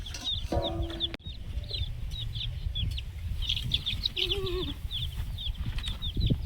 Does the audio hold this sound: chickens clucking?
yes